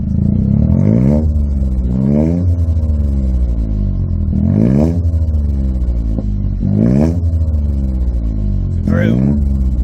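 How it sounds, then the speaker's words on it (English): A 2023 Toyota GR Corolla revs repeatedly through an MBRP catback exhaust, rising and falling in several deep, throaty pulls with a rumbling idle between them. "That way we can rev it a little bit just to see what it sounds like."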